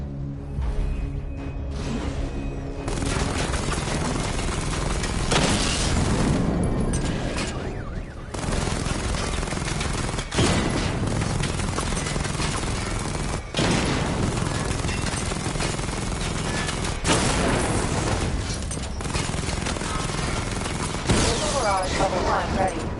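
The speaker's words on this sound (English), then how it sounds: "Destroy targets to charge up weapon energy and activate missile barrage" Weapon fire at targets in Batman Arkham Knight, a long barrage of loud rapid shots and booming impacts with whooshes, nearly continuous with a few brief lulls, and speech at times over the firing.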